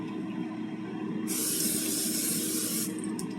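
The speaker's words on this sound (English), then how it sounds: "I'm also going to spray with butter spray so they don't stick." Butter spray hisses from a can onto apple slices in an air fryer basket, one steady burst lasting about a second and a half, close and clear over a low background hum.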